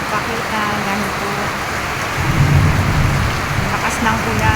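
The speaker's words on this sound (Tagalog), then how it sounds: "lakas ng ulan" Heavy rain pours steadily onto a house roof, a dense constant roar that swells louder halfway through, with faint rumbles beneath.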